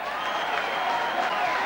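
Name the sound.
rugby league crowd applause for a substitution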